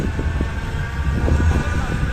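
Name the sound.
tram running on a street in Manchester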